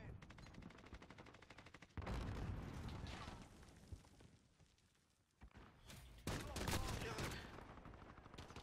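Rapid gunfire bursts from a weapon in the game Call of Duty Modern Warfare, with a loud stretch of fire, a quieter lull, and then a heavy barrage, with a voice briefly audible.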